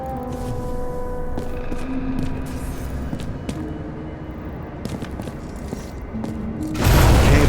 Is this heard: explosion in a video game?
yes